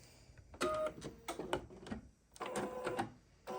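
An embroidery machine sews a quilting stitch on a terra cotta sampler block, its needle clattering in fast bursts that pause briefly and restart, close and fairly quiet, with no voices.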